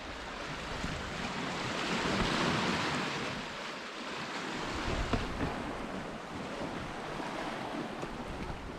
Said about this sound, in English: the way the water and the waves are spraying up through